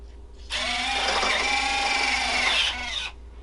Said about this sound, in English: Alright, gear coming down.